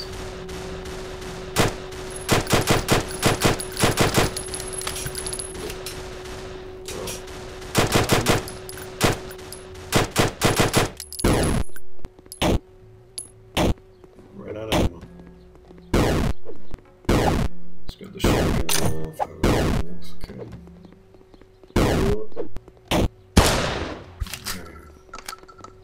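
Automatic turret gunfire in Super Voxel World, a voxel FPS tower defense game: rapid machine-gun bursts of varying length, loud and close, firing in repeated volleys with short gaps between them.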